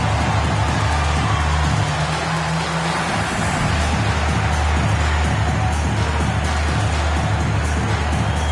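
Loud, dense arena crowd roar in the basketball video game NBA 2K26, a steady wash of cheering and noise that holds for the whole stretch, with a low sustained tone dropping out partway through.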